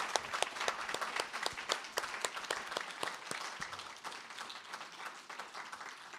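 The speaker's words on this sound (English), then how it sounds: "applause." Audience at a faculty presentation clapping steadily, with sharp individual claps close by over a broader wash of applause that gradually thins toward the end.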